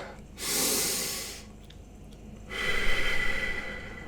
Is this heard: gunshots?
no